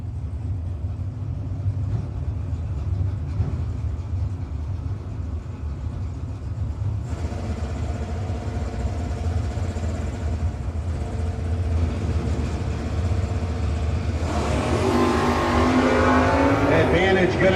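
Drag cars launch and run down the strip at a no-box 660 shootout, a continuous engine roar that swells toward the end, heard under a track announcer's commentary.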